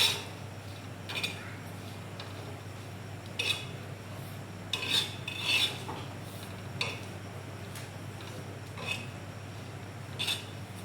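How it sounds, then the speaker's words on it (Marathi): Green chilies dry-roast in a pan without oil, with scattered metallic scrapes and clinks from stirring over a faint steady hum, heard close and without talk. "तेल टाकलं की मिरची बघा फुटते, त्याच्यामुळं अगोदर अशीच भाजून घेऊयात आपण।"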